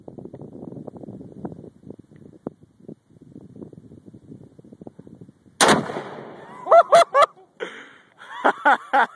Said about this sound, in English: Here's Brandon trying out these new explosive 223 rounds we have, doing a little excavating.